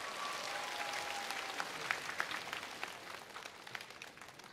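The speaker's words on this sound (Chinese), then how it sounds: "再次把掌声送给二位" Studio audience applause on the stage of a Chinese TV singing show, a dense steady patter of many clapping hands at moderate level with a few sharper claps standing out, no voices.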